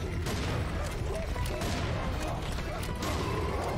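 Pistol fire in the video game Serious Sam 4 makes a dense, relentless volley of rapid shots that merges into a loud, continuous roar of combat noise.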